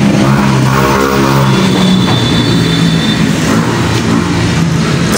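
A Yamaha Mio Soul i scooter engine idles with a loud, steady, buzzing drone, close by and continuous for the whole stretch, with no talk over it.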